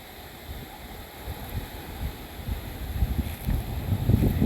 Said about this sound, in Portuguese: Mas tá ventando forte, hein?